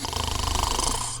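Loud, close snoring from a sleeping person, one heavy rattling breath filling the short moment, with no talking.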